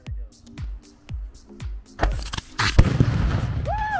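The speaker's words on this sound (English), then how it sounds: "The rocket flew with a solid trajectory and hit the target, resulting in a very nice blast." A 3D printed rocket launcher fires and its rocket blasts on a target, preceded by a series of sharp regular clicks, then a loud whoosh and booming impact with rumbling noise, followed by a rising whistle-like tone.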